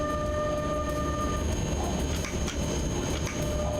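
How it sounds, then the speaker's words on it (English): A locomotive in the SimRail railway simulator video game runs steadily with a loud, continuous rail rumble, wheel and mechanical noise, and sustained tonal whine, heard alone without speech. "the locomotive should handle that"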